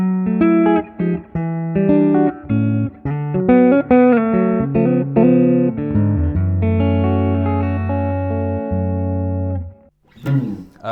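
An electric guitar, a Fender Custom Shop Strat, plays through a hand-wired Vyse tube amp on its low input, mildly overdriven and breaking up. Loud, close chords and picked notes ring on, then stop in a brief noisy pause.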